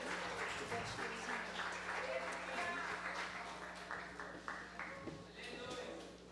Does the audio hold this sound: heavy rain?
no